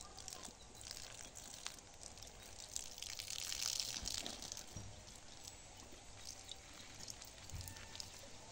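Water poured from a container over small bamboo cuttings and branches, a soft continuous splashing and trickling that holds steady for several seconds, close by and moderately quiet.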